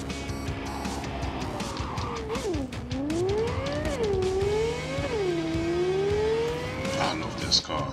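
Sporty car in the video game Cyberpunk 2077 revs and skids around corners, engine pitch rising and falling in sweeping waves with a tire squeal near the end, under game noise and occasional talk.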